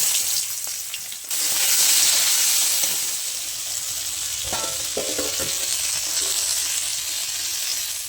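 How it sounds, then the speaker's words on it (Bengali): Brinjal pieces fry in oil in a pan, a loud continuous hiss and crackle close by, with a few clinks of stirring and no voices. "এর মধ্যে আমি বেগুনগুলোকে ভেজে নিই"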